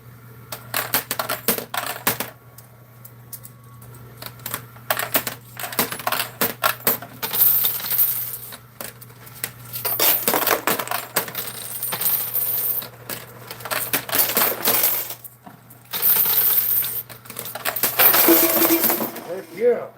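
Half dollar coins clatter and drop repeatedly in a coin pusher arcade game, with bursts of metallic jingling separated by brief pauses over a steady low machine hum.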